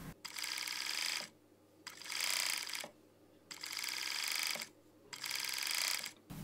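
Serger stitching a T-shirt sleeve seam while trimming the edge, running in four bursts of rapid whirring buzz separated by short pauses, close and fairly quiet.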